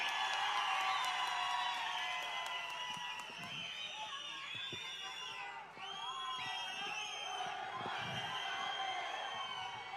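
A large crowd at a political election campaign rally cheers and shouts continuously, high excited voices and whoops blending into a loud sustained roar, with scattered claps.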